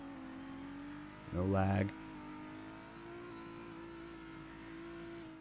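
A car engine in DayZ on the ChernarusPlus map hums steadily throughout as the vehicle drives, its pitch dipping briefly as the RPMs reset from lag, while a short spoken remark overlaps near the start.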